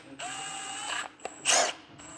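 A power driver snugs bolts on a camshaft adjuster during a supercharger install on a C63 AMG, giving brief close whirring bursts split by short pauses and a sharp click.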